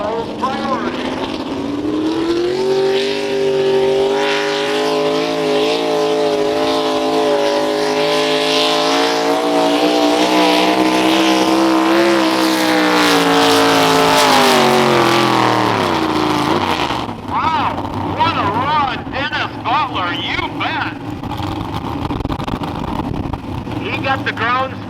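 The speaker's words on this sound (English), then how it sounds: "Super stock truck. Following Dennis Butler, the V8 he calls priority." A super stock pulling truck with a V8 engine roars loudly through a truck pull at a tractor and truck pulling show, revving steadily higher, then dropping off near the end as crowd noise and talk continue.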